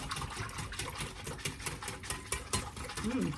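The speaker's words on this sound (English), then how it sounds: "you're gonna go ahead and whisk that all together. Make sure you get your egg yolks broken up." A whisk beats eggs in a bowl for French toast batter, making quick, rhythmic scraping and clicking strokes close by, with no talk over it.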